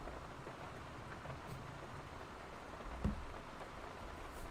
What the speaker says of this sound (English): I have rain sounds instead of music.